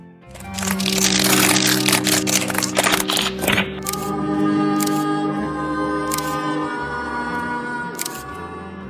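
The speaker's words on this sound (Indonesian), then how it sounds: "Setiap aku motret ada suara cekrek-cekrek." SLR camera shutter firing in a quick burst of sharp clicks for about three seconds, then a few isolated louder clicks spaced apart over a lingering tonal background.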